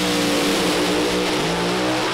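Drag race cars at a Norwalk drag strip revving on and off the throttle, a continuous loud engine drone with wavering pitch and steady harmonics throughout.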